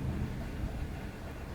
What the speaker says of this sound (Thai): เออฝนตกหนักมากเลยอ่ะ